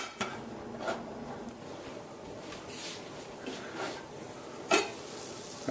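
Browned onions for a braised chicken-thigh pie fry in a pan with a steady soft sizzle, broken by a few spoon scrapes and one sharper clink, heard close with no talking.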